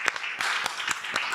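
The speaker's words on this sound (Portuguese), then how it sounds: "Vamos aplaudir." An audience at a talk on transparency and governance claps in short, bright bursts for a few moments. The applause is moderately loud, and no one speaks over it.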